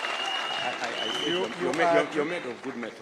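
A crowd applauds the Deputy President at a political party's national delegates gathering, with steady clapping running throughout beneath someone speaking over it.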